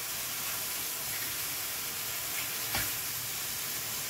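Mushrooms fry in butter in a pan with a steady, close sizzle and hiss that holds throughout, broken by one brief stir or clatter, with no talk.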